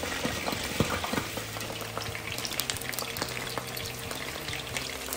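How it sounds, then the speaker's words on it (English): Eggs fry in a hot pan, a steady close sizzle with crackling pops and spits throughout, no voices over it. "I'm doing fry egg first"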